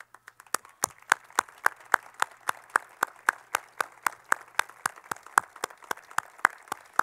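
An audience claps for a senior nursing class standing to be recognized. The applause is a sparse, steady run of individual sharp claps, like a few people clapping, with no talking over it.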